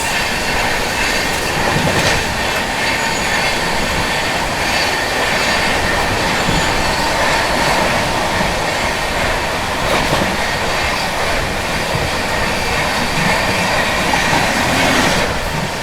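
The CR Rajdhani Express overtaking the Gondwana Superfast Express, heard from inside a first AC coach: a steady loud rumble with rhythmic clickety-clack of wheels over rail joints and occasional squealing, no voices.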